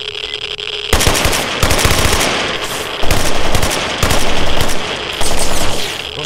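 Automatic gunfire in the video game S.T.A.L.K.E.R. Anomaly: loud, sustained rapid bursts of shots with short breaks between them, harsh and close.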